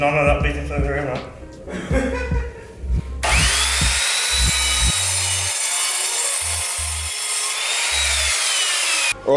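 A power saw cuts through a large piece of wood for a work surface, a loud sustained whining buzz after a few knocks and bumps, with a low engine-like hum pulsing underneath.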